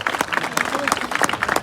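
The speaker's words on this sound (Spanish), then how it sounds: "Fuerte aplauso para Óscar" A crowd at a Basque rural sports exhibition claps briefly for an athlete, quick scattered hand claps heard under an announcer's voice.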